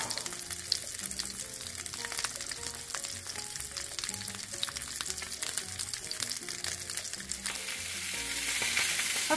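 Chicken sausages sauté and brown in a hot pan, giving a loud, dense, continuous sizzle with crackles and spatters that swells toward the end, with no talking.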